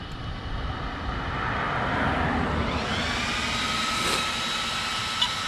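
Electric motor of an Arrma Limitless RC car on a test pass, a steady high whine that rises in pitch partway through and holds, with a continuous rushing roar underneath, fairly loud and close.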